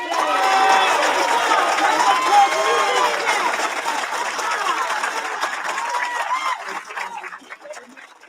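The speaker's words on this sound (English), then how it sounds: "Can we give Jonathan another round of applause?" Crowd at a second-chances graduation ceremony applauding and cheering for graduate Jonathan, a dense, loud wash of clapping with some voices mixed in, holding steady before gradually fading toward the end.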